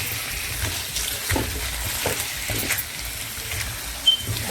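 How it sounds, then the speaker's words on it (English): Tomato, garlic, onion and scallions fry in a pan with a soft, faint sizzle, a few light stirring scrapes and one brief clink near the end. "I'm gonna let this fry up a little while, for like 2 to 3 minutes"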